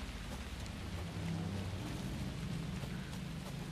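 Soft, steady rainfall in the video game Alan Wake 2, with a low rumbling undertone, gentle and continuous, heard faintly without any voices.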